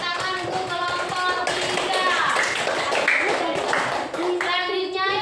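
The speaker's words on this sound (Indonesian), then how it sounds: "Beri tepuk tangan untuk kelompok" A group of people, apparently children, claps for a presenting group in a classroom setting, steady rapid clapping filling the clip with voices mixed in.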